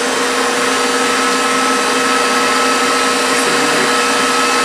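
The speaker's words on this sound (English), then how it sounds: "I'll put the mixer on" Electric mixer running steadily on high speed, beating egg whites for a marshmallow meringue topping, a continuous close whirring motor drone with no talk.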